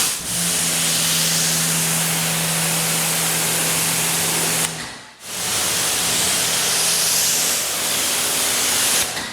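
Steady, loud hiss of a pressure-washer spray rinsing soap off a BMW E36 M3, continuous broadband rush with a faint low hum, briefly cut off midway before resuming.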